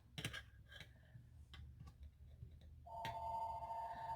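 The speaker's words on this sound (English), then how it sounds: "Oh, and there's the phone." A telephone rings indoors, a steady electronic trill that starts partway through after a few quiet clicks and soft taps, in a quiet room where someone knits.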